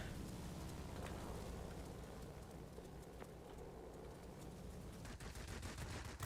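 Dense, continuous rapid-fire 20mm cannon bursts from a P-61 Black Widow in World of Warplanes rattle without a break, a loud mechanical staccato that swells again near the end.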